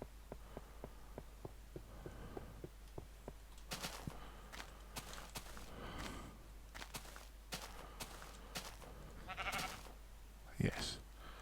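Sheep bleating in Minecraft, with a quick series of faint clicks at first, then a busy run of footstep-like thumps and scuffs and a short, sharp bleat near the end.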